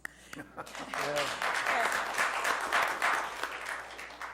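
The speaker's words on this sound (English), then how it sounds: "Applause." Applause from the audience at a county board of supervisors meeting, a broad wash of clapping that swells and holds steady with a voice briefly heard at the start.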